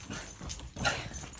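A dog whimpers in short, soft whines indoors, with a louder burst near the middle, as someone nearby fusses over it.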